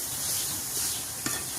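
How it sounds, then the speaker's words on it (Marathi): Grated raw papaya roasts in a little ghee in a wok, a soft continuous sizzle with a light stirring scrape near the end. "आता हा जो किस आहे तो कढईमध्ये छान असा भाजून घ्यायचा आहे थोड्याशा तुपामध्ये"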